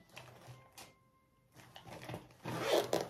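Zipper of a pencil case being opened, a few short scratchy pulls close up and fairly quiet, with a louder longer zip toward the end.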